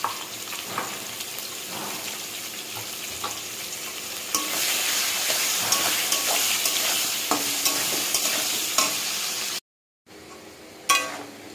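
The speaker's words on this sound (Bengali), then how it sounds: "পেঁয়াজটা ভাজা হয়ে গেছে" Chopped onions and potatoes fry in a pan with a continuous close sizzle, broken by scraping stirs, brief louder crackles and a short cut to silence near the end.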